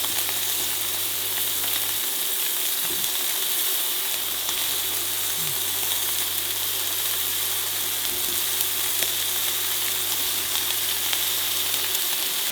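Mushrooms frying in a hot pan next to a steak give a steady, even sizzle and hiss that runs unbroken at close range, with a low hum underneath and no talking.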